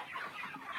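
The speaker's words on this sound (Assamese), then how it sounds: "ইয়াতে 2100 মুৰ্গী আছে, ব্ৰইলাৰ মুৰ্গী আছে।" A flock of about 2,100 broiler chickens in a large poultry farm shed in Cooch Behar, West Bengal, cluck in a steady, overlapping murmur, fairly close and moderately loud, with no talking.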